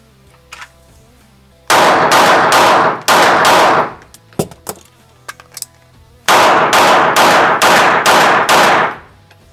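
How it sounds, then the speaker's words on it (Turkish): A Springfield Echelon pistol fires in rapid bursts at close range, the loud cracks running together in two dense strings with a few scattered clicks and clatters between them. "Şimdi kalan 6 taneyi de bir yağdırma yapacağım ve bittiğinde şarjör değiştireceğim."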